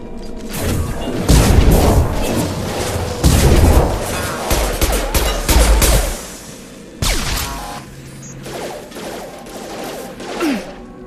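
Rapid weapon fire and booming explosions in the video game Mass Effect 2 on Insanity difficulty, loud bursts in clusters with a short lull and trailing mechanical sounds.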